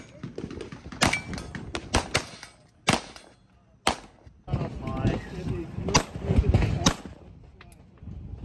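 Gunshots at an outdoor shooting range during an industry day event, sharp separate cracks at uneven intervals, some louder and nearer, with other shots and ambient noise in between.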